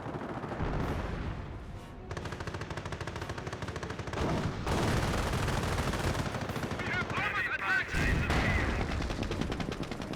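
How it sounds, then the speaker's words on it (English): Machine-gun bursts and artillery fire crackle through a Company of Heroes battle, the steady rattle of shots broken by heavier booms and a brief whistling shell, moderately loud, with some game voice chatter mixed in. "Cal firing away, hitting the Panther"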